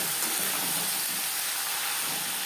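Fish roe and fish oil hitting a hot pan with partly cooked onion and tomato for a Bengali fish roe chorchori, giving a steady loud hiss and sizzle throughout with no voice.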